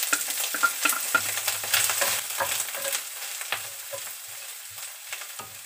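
Garlic fries in a wok, sizzling loud and steady with scraping stirs and small metallic clinks of the spatula against the pan throughout.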